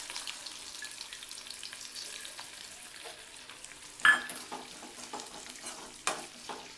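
Green chillies and onion pieces fry in a little oil with a faint, light sizzle, then a couple of sharp bursts of crackling as the pan is stirred and scraped, all quiet and close.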